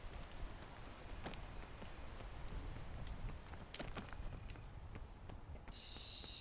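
Steady rain in the video game PEAK patters continuously, with a few sharper drop ticks standing out and a brief brighter hiss near the end, no talking.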